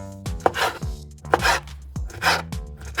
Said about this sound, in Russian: Первое у нас курица. И вперед режем.